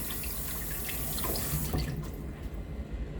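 Water running from a kitchen tap while something is rinsed in the sink, a steady close splashing stream with small irregular clatters, no voices.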